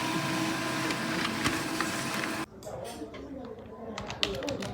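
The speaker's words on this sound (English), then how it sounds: "Her fingers are her finest weapons, typing, saving, and printing her way through the day." Office keyboard typing and a desk printer running through a workday, a steady busy mechanical clatter of keys that drops abruptly halfway to quieter scattered taps and printer whirring, close and moderately loud.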